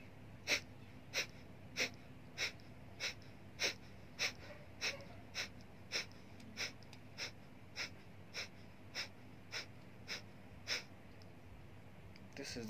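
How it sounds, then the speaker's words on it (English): Forceful, rhythmic exhalations of Kapalbhati pranayama breathing, about twenty sharp nasal puffs evenly spaced roughly every half second, close and distinct over a quiet background. "this is the proper flow of exhalation"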